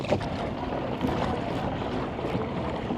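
An Old Town Malibu ePDL electric pedal kayak runs in trolling mode on open water, with a steady wash of water and wind noise close by and no talking.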